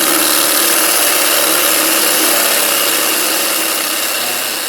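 A power drill bores 5/8-inch holes in a rock crusher build, a loud, continuous, rough grinding roar close by that eases slightly toward the end, with no talking.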